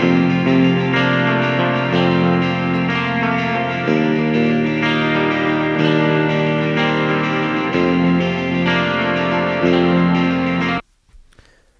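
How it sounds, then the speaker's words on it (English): Distorted electric guitar played live through a Dr. Z amp, a Marshall 18-watt style, alongside a Twin Reverb, loud and sustained with steady chord layers and reverb and echo, stopping abruptly near the end. "Let's check out the electric guitar stuff here."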